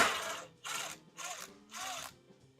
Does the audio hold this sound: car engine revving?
no